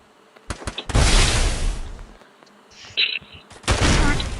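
Gunfire from a shooter video game, where players are being shot at on a rooftop in a freestyle zone. Close, loud bursts of shots and sharp cracks come in two main volleys separated by a short lull, with no talking.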